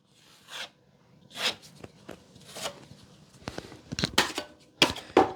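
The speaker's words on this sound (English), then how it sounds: "now I'm just going to lightly cover that with a little joint compound." Joint compound is spread over drywall tape with a putty knife, making close scraping and rasping strokes in irregular bursts, some sharp and clicky, with quiet pauses between them.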